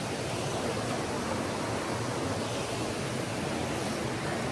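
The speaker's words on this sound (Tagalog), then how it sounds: "ngayon naman nandito na kami sa Kawasan Falls" Kawasan Falls waterfall pours in a dense, unbroken hiss and rush, steady and moderately loud with nothing else over it.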